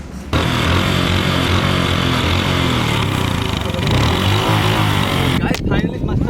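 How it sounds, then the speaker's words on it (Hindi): A motorbike engine runs on mustard oil instead of engine oil, a loud, close, steady droning idle that starts abruptly and continues evenly before cutting out near the end, with someone talking over it. "फाइनली ये मस्टर्ड ऑयल से गाड़ी चल रही है"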